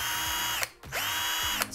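Parkside cordless drill in drill mode, second gear, whirring at a steady high pitch that drops out twice briefly as the trigger is released and squeezed again, loud and close with no talk.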